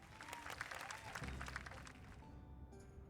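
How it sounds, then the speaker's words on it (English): Crowd applause in the video game My Time at Sandrock, celebrating a rebuilt bridge, rises as a steady wash of clapping, then fades out, leaving a quiet tone and a soft game sound. "let's give a special round of applause for our core construction team"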